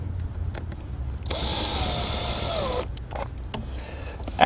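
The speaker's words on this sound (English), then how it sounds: "And then we'll take our screws and mount the box securely." A power drill drives screws to mount a box on a Torklift Central Welding trailer fitting, a single loud steady whir lasting just over a second, then stopping, with small handling clicks around it.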